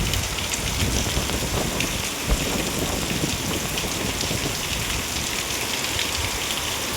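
Steady rain falls continuously and fairly loudly throughout, a dense even patter on surfaces with no voices, in sunny weather with a rainy wind blowing.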